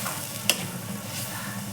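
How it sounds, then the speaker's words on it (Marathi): Wet Khandeshi-style masala frying in very hot oil, a continuous bright sizzle with one sharp utensil tap near the start and a brief swell of spitting later. "मसाला टाकून घेतला. तेल अगदी कळकळीत गरम झालेलं होतं."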